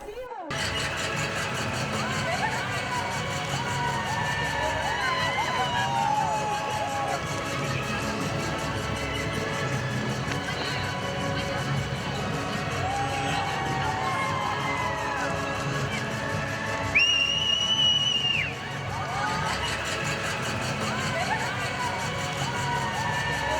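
Townspeople on a central square cheering and applauding a parade of fifteen young women in white wedding dresses, a continuous crowd roar under a loud voice talking over it, with a brief louder burst near the end.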